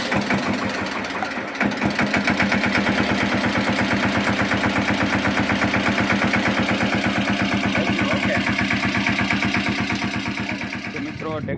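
A tractor engine runs after a new battery is fitted, a loud close diesel chug with a fast even knocking rhythm that holds steady and eases slightly near the end.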